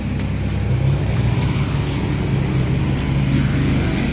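Cooling fan of a Kia Picanto running, a steady near whooshing drone with low rumbling hum that holds evenly throughout, no talk.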